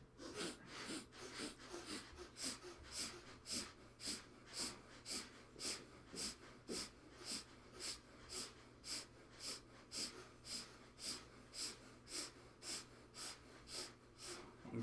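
Strong, forceful rhythmic breathing during a guided breathwork exercise, with quick regular breaths repeating steadily about once a second, close and clear, with a faint low hum underneath.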